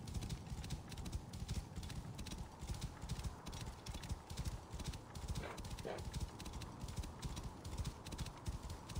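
Rapid, rhythmic clip-clopping of horse hooves at a steady trot in Assassin's Creed Origins, continuous and fairly close, with a brief faint whinny-like tone partway through.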